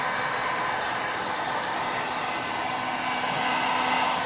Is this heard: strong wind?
no